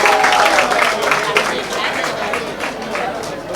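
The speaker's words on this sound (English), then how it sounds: "Please give them a huge round of applause." Crowd applause at a college event for a film promotion, steady dense clapping with cheering voices and chatter throughout, fairly loud and close.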